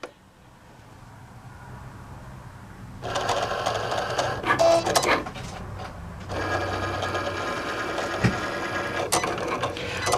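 A Cricut machine cuts matte heat transfer vinyl on a mat, starting with a quiet hum and then a close, steady mechanical whirring with buzzy carriage movements and short pauses between passes.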